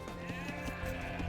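A goat in Age of Empires bleats in a low, wavering tone, faint beneath steady game background sound with no talking.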